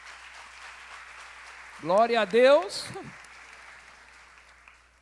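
A church congregation applauding at a Sunday evening service, steady clapping heard at a distance under a voice speaking loudly over it, with the applause gradually dying down.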